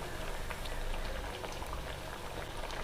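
Onion bajji bubble and fry in oil over a medium flame, a dense, even patter of bubbling and crackling that stays steady and close.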